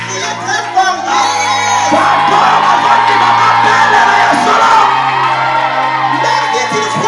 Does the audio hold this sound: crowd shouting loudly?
yes